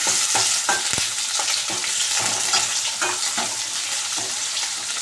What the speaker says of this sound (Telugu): కరేపాకు గుత్తి మిరకాయలు ఒక మూడు తీసుకొని ఇలా వేసుకోవాలి ఇప్పుడు కలుపుకోవాలి